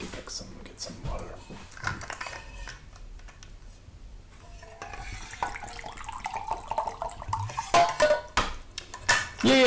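Water runs from a tap into a sink while a glass is filled, with clinks of dishes and cutlery. It swells louder toward the end, and a voice talks over the earlier part.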